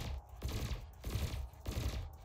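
Ship lasers in Elite Dangerous Odyssey fire in three evenly spaced, buzzing bursts, each a sharp crackling pulse that fades before the next.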